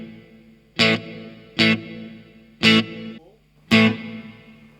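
Electric guitar played through the hall reverb setting of a Blackstar HT effects pedal: four loud strummed chords at a steady pace, each ringing out with a long, roomy reverb tail.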